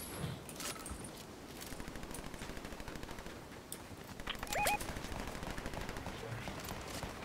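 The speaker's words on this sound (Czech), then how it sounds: "Hele, někdo střílí." Rapid bursts of automatic gunfire in Fortnite, including an SMG, rattle continuously at moderate distance, fairly quiet, with a slightly louder burst near the end.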